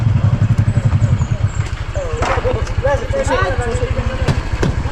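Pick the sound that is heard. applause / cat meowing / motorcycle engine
motorcycle engine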